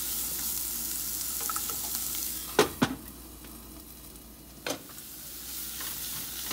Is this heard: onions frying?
yes